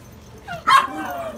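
A small short-legged dog gives a single sharp bark up close in a playful indoor setting, with a faint whining tone just before and people's voices nearby.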